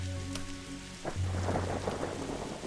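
Rain and thunder on a roof in the video game The Darkside Detective, steady rainfall hiss with a low rumble of thunder underneath, preceded by a brief sustained tone that cuts off.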